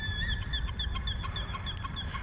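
Ducks outdoors in winter give a rapid series of quacks and clucks, moderately near, over low wind rumble.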